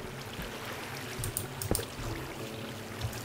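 Flowing water in Minecraft, running through a zombie XP grinder, gives a steady rushing pour with a few louder splashy bursts midway, heard alone at moderate volume.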